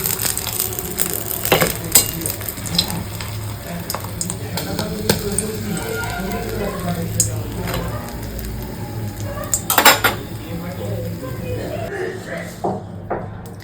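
A crispy fried Bengali-style amudi fish chop gives off several sharp, brittle crunches and crackles, scattered irregularly under a person's ongoing talk.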